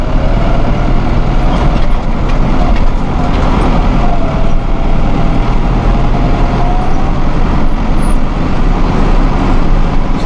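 A 2001 New Holland TL100 utility tractor driving in fourth gear, its engine a loud, continuous, close rumble with a dense broadband roar that holds steady throughout.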